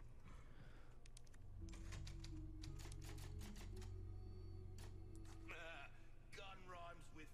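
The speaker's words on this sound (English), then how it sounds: "There is a typewriter." A video game typewriter clacks in quick irregular keystrokes over a low droning soundtrack, with a speaking voice in the game mixed in and bleating-like vocal sounds near the end.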